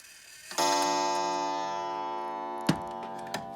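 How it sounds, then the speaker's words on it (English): A Korean Centennial Parlor clock rings out a bright, sustained chime tone that slowly decays, with a few sharp metallic strikes or ticks later on, close and clear in a quiet room. "This is another Korean clock called the Centennial Parlor clock."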